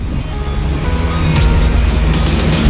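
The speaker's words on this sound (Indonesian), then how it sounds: "sebuah mobil pick-up berusaha mendahului laju bus di Jalan Lintas Sumatera" A pick-up truck tries to overtake a bus on a narrow stretch of the Jalan Lintas Sumatera in Mandailing Natal, North Sumatra, its loud engine and tyre noise swelling as it draws close and presses alongside.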